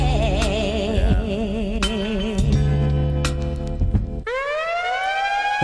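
A wailing siren sample in J Dilla's 'Donuts' rises and falls over a dense, looping beat, then breaks into a swelling, bright siren sweep that stands alone at the end.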